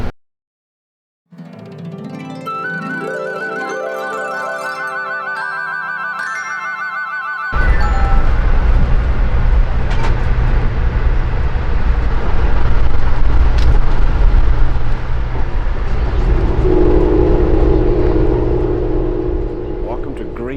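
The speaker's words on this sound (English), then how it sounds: "this is an overnight train" An overnight Amtrak train rumbles along the rails with a steady low roar and rattle, following a quieter stretch of soft music.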